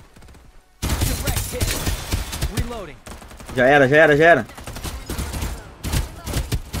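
Bursts of rapid gunfire in Farlight 84 crackle in short volleys, with a warbling tone in the middle and a person talking excitedly in Portuguese over the action.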